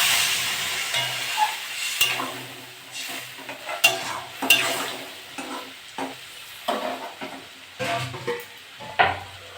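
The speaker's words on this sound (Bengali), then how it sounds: "আমি এবার জল দিয়ে দেবো" Fish curry of tilapia and taro roots in a pan as water is poured in and stirred, with repeated scraping strokes, soft clinks of a utensil against the pot and a low sizzle, close and moderately loud.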